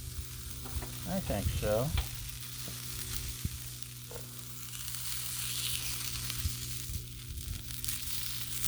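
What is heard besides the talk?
sausages sizzling on a hot Blackstone griddle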